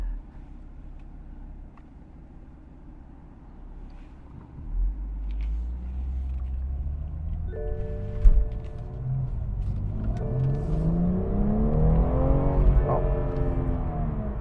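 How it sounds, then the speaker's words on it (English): A 2017 BMW M240xi inline-six engine rumbles low, then revs and accelerates, its pitch sweeping upward as it pulls away, loud and close inside the cabin. "we'll take it for a quick drive to let the inline six open up a little bit."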